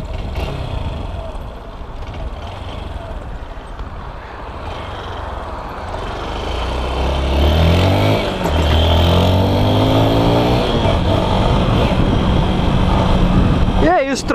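A Honda Bros 160 motorcycle engine idles, then revs up with a rising, droning pitch, running steadily and close by while someone talks over it.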